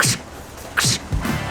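Three sharp chopping thwacks on a board through crispy roast pork skin, each with a crisp crackling top, spaced unevenly over about a second and a half.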